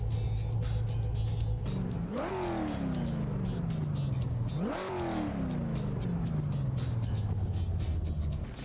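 A Veloz GTS-8 car mod (version 1.5) in Assetto Corsa revs hard twice, each sharp climb falling away into a long engine drone over steady road and tyre noise.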